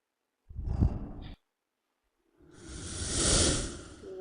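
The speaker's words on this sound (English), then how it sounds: "if you want to add a transition zoop sound" Transition sound effects from a phone video editing app: a short breathy whoosh, then after a pause a longer airy swoosh that swells and fades out, moderately loud with no voices.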